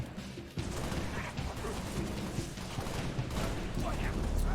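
Battle rifle gunfire in a modded Halo Reach rattles in rapid bursts amid a dense, busy game mix of distant explosions and mechanical clatter, moderately loud with no clear talk.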